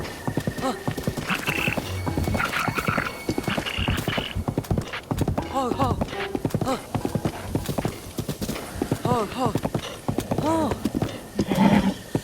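A horse in the Zelda Breath of the Wild video game trots with rhythmic, close clip-clopping hooves, broken by several whinnies and neighs, with someone talking over parts of it.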